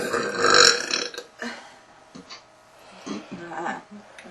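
Loud, drawn-out burping from young girls, one big belch followed by several shorter ones spaced apart, close to the microphone with no other sounds.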